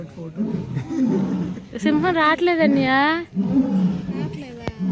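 Lions roaring at a zoo, a long rising and falling roar close by, mixed with people talking throughout and crowd chatter around it.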